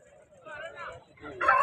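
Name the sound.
fighting roosters at Punganur market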